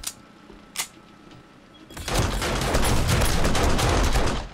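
Turret gunfire in 7 Days To Die during a horde night defense, starting after a couple of isolated clanks and then a loud, sustained rapid burst of automatic shots that rattles on without pause.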